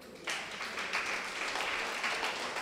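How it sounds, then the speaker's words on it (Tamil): An audience at a Tamil devotional speech event claps, a sudden burst of steady applause that starts abruptly and continues evenly at moderate loudness. "கைத்தட்டிக்கோங்க."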